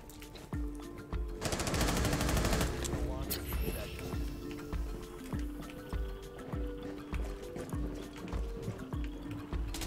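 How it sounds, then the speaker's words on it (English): Gunfire in Rainbow Six Siege, a shotgun firing over a background game soundscape: one loud burst around two seconds in, followed by a steady series of sharper shots spaced through the rest, with a voice speaking over the action. "What the fuck is this shotgun? I shoot him and he doesn't even go."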